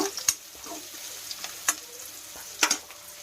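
Okra (lady finger) fries in a pan of hot oil, a quiet sizzle broken by sparse, sharp crackles and pops.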